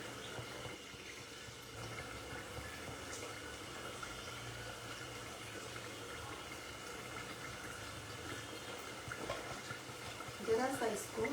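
A kofta drops into hot oil for frying, giving a steady close bubbling sizzle that swells briefly near the end.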